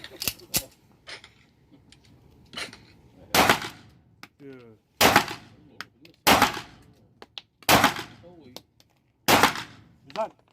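Sharp, loud shots from an Özkursan Lagant pistol crack one at a time at irregular intervals at a shooting range, with quiet talk and faint mechanical clicks between shots.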